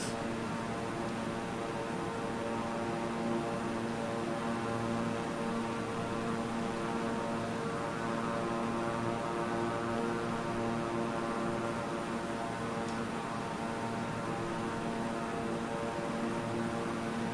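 A propeller airplane hums steadily in a flight simulator game while flying through the Himalayas and pulling a loop, a faint, even engine drone that holds throughout with no voices.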